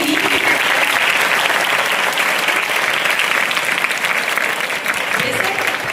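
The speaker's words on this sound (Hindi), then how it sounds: "सबसे पहले तो आप अपने गुरुजनों के लिए ढेर सारी तालियां बजाइए" A large audience at a girls' senior secondary school board-results event applauds loudly and continuously for several seconds. Faint voices come through the dense clapping.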